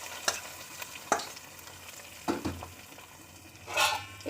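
Garlic, onion and cumin tempering tipped into a pot of mutton korma, giving short bursts of sizzling with stirring scrapes, a louder hiss near the end.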